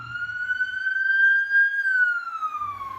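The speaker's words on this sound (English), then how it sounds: "We're near ambulances everywhere because we're literally just outside the hospital." An ambulance siren wails steadily just outside a hospital, heard from a London bus on route 456, a single loud rising and falling tone with faint traffic rumble beneath.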